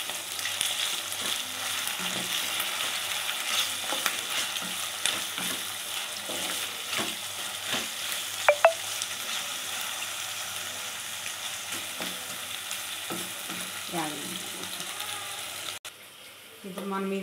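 Pieces of bitter gourd fry in a pan, a steady soft sizzle with occasional stirring scrapes and brief clinks, close by, ending with a short burst of running water.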